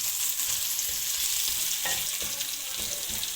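Green onions fry in a pan as the base for sarson ka saag, a continuous close sizzle with soft scrapes and taps of a spoon stirring through it; no talking.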